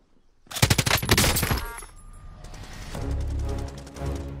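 A PKM machine gun in the Warzone video game fires one rapid, loud, close burst of shots, followed by a sustained rumbling tail and the ambient noise of the game.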